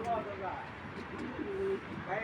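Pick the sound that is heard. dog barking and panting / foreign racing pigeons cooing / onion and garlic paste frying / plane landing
foreign racing pigeons cooing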